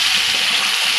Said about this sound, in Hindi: उसके बाद 2 गिलास पानी डाल के इसको मीडियम आंच पे रख देंगे